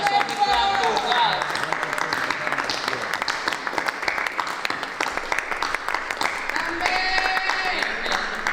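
A congregation at a French-language church service claps and cheers, with sustained applause under music and voices and talk running throughout.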